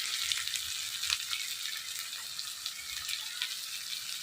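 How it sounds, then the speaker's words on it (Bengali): Water from rinsing a spice bowl is poured into spices frying in a pan for a Bengali fish curry, giving a steady close hiss and sizzle with faint crackles throughout. "এই যে মশলার বাটি ধোয়ার জলটা দিয়ে দিলাম।"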